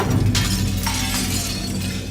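Glass shattering in a video game as something is smashed: a loud, close crash and a bright scatter of tinkling shards that fades over about two seconds, with no voices.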